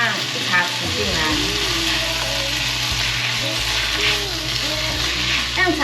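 Bean curd stir-frying in a wok with a teaspoon of toona sauce added, a steady loud sizzle with spatula scraping and stirring throughout, close and continuous.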